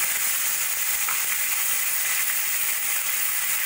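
Soaked mung dal frying in hot oil with whole spices gives a steady, close, bright sizzling hiss that holds without pause and has no voices over it.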